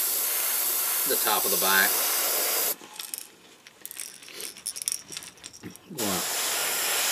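An airbrush sprays paint onto a crawfish-pattern fishing lure through a homemade stencil, giving a loud continuous hiss that breaks off for a few seconds and then resumes, with someone talking over parts of it.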